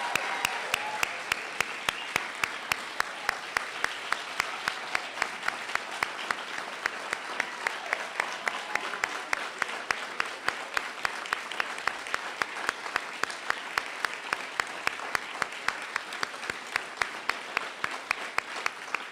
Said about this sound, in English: join me in thunderously applauding all of these wonderful honorees today